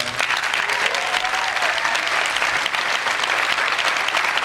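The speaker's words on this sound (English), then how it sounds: "if you all can just give them a round of applause" An awards ceremony audience gives honorees a round of applause: sustained, even clapping from a sizable crowd with a few faint cheers mixed in.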